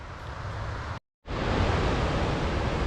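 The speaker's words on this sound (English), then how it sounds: "I'm sure you can hear it, and I hope you can see it, but there's a waterfall behind those trees" A waterfall behind trees on the Appalachian Trail gives a steady broadband rushing roar, briefly cut off for a moment before resuming just as loud.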